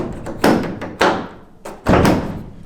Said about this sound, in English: So our door opens right up